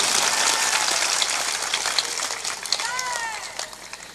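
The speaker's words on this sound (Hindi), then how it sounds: "तालियां जोर से बजाया करो" Audience at a spiritual discourse (satsang) clapping loudly: a dense, rain-like wash of applause that is strongest at first and gradually thins out, with a brief vocal sound near the end.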